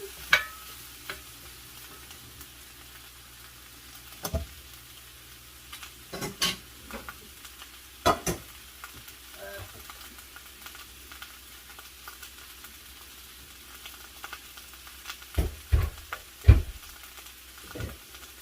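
Chayote and ground beef being stirred and sautéed in a pan, with scattered scraping clinks of a utensil over a low, steady sizzle, close by and fairly quiet with no talking.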